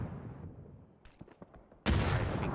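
Gunfire in PUBG during a pro scrim lobby, a few faint distant cracks followed by a sudden loud, close burst of noise at the end.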